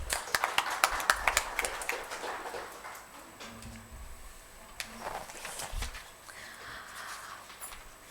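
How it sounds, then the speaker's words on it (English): Scattered claps from an audience welcoming speakers to the stage at a literature and art festival in Bhopal, a few sharp hand claps early then thinning to sparse, faint pats amid room noise. "invite them to the stage with a round of applause"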